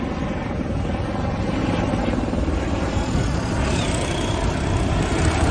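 A helicopter circling overhead, its loud, steady rotor and engine roar droning continuously without a break.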